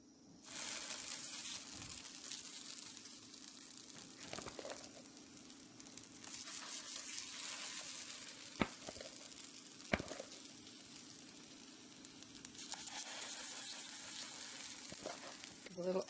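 Food frying in olive oil in a hot cast iron skillet on a stovetop, a steady close sizzle running throughout with a few sharp clicks and crackles.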